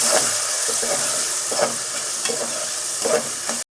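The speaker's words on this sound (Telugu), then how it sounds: "ఈ ఉల్లిపాయలు కట్ చేసుకున్న ఉల్లిపాయలు వేస్తున్నాను" Chopped onions, three medium ones, sizzling in a hot pan with a steady loud hiss, stirred with a few soft scrapes at regular intervals, then cut off abruptly at the end.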